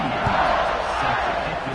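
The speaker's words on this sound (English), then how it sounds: "this crowd is buzzing after that last score" A dense stadium crowd roars and buzzes continuously after a score in a college football video game, NC State at Notre Dame, a loud broad wash of cheering with no break.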